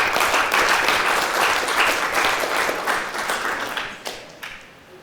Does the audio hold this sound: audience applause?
yes